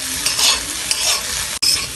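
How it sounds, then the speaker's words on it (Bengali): Egg being stir-fried with vegetables on a hot pan for an egg paratha filling, a dense continuous sizzle with spatula scraping and stirring throughout, briefly cut off near the end. "ডিমটিকে ব্যবহার করে সবজিগুলোর সাথে 2 থেকে 3 মিনিট আরেকবার ভালো করে ভেজে নিতে হবে"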